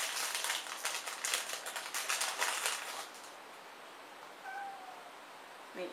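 A cat meowing indoors in the morning, with faint, short meows near the end after a stretch of loud crinkling and rustling, the cries quiet and somewhat distant.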